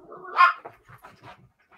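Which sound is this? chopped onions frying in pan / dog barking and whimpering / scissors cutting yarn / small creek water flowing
dog barking and whimpering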